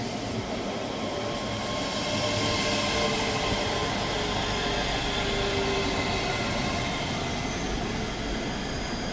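A ScotRail electric multiple unit, number 385038 leading, runs through Edinburgh Haymarket station on the Dunblane to Edinburgh Waverley service, giving a steady, broad rumble with faint whine that holds evenly for the whole stretch.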